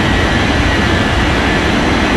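China Eastern jet roars on the runway during takeoff in an air traffic control game, a loud, steady, close engine rumble filling the whole moment.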